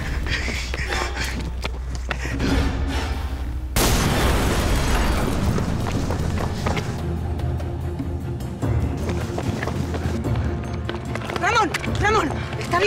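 A bomb goes off near an airplane: one sudden, loud, close blast hits a few seconds in, then a long rumbling roar of debris and noise follows, with voices and background sound continuing underneath.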